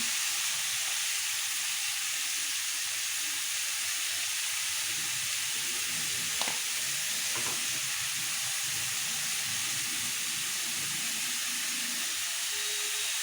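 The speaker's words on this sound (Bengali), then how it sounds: "এবার একটু নুন, অল্প হলুদ দিয়ে মিশিয়ে নিচ্ছি" Prawns and mixed vegetables frying in a pan with salt and turmeric, giving a steady, close sizzling hiss throughout with a couple of faint scrapes as the mixture is stirred.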